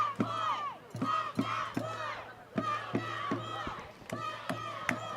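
Crowd in the stands at a high school football game, St. Mary's against the Hasbrouck Heights Aviators, shouting and cheering in loud repeated bursts with thumps, heard beneath an announcer's voice.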